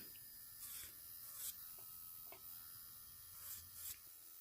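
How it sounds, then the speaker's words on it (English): An electric nail file smooths a dip powder nail, giving a steady, faint, close high-pitched whir with brief scraping swells as it presses against the nail, with no talking. "So now I am going to file this to make it smooth."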